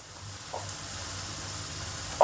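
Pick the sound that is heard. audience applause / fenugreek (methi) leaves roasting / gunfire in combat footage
fenugreek (methi) leaves roasting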